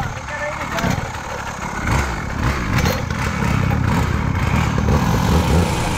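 A mini motorcycle engine starting before an informal street race, with a steady, loud engine drone running throughout and people talking over it.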